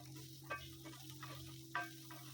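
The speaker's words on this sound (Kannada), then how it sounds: "ಚೆನ್ನಾಗೀಗ ಮಿಕ್ಸ್ ಮಾಡ್ತಾಯಿದ್ದೀನಿ, ಅಂದರೆ ಫ್ರೈ ಮಾಡ್ತಾಯಿದ್ದೀನಿ" Capsicum and paneer shallow-frying in a pan, a soft steady sizzle with a low hum beneath and a couple of sharper scraping stirs of a spoon.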